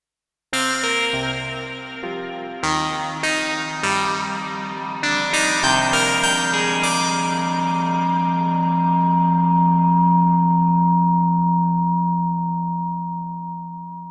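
A synth plays a series of sharp plucked notes through an Arturia reverb with feedback, swelling into a long, ringing reverberant wash, sustaining and slowly fading with a metallic resonant tail.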